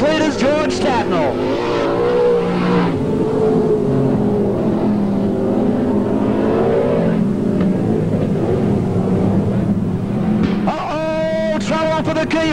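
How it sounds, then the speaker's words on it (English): Race cars in a New South Wales sports car championship round lap a circuit, engines droning steadily throughout with a sharper whining pass near the end, while a commentator talks over the noise. "The race continuing on as they head off turn 4 with George Tatnell, still the race leader"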